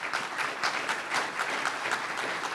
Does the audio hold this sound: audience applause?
yes